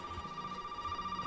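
A telephone rings in the video game Resident Evil 7 with a steady electronic tone, quiet and continuous over a low room hum, and no one speaks.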